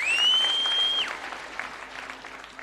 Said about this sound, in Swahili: Pigieni Churchill makofi.